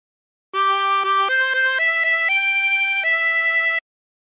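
Harmonica playing a phrase of La Cucaracha, a bright reedy tone stepping through several sustained held notes, loud and alone with no talk.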